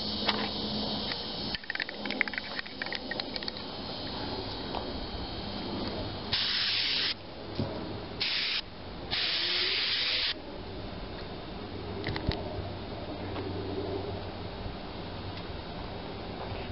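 Silver spray paint hisses from an aerosol can in several short and longer bursts onto RV door stopper holders, with quiet rustling and handling sounds between the sprays.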